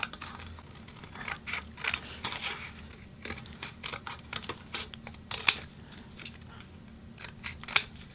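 A cardboard square is cut out by hand, giving a series of soft, close crunching snips and scrapes at an uneven pace, fairly quiet, with a couple of sharper clicks.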